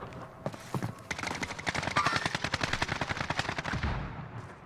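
Rapid bursts of automatic gunfire in a Rebirth Island match with an AK rifle, dense loud volleys of shots rattling for several seconds and then stopping.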